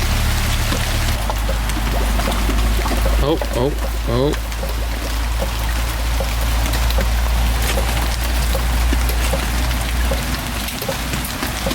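Small DIY budget pond pump circulating a trickle of water back into a backyard pond, a steady low splashing and pouring wash running throughout, with a brief voice exclaiming over it.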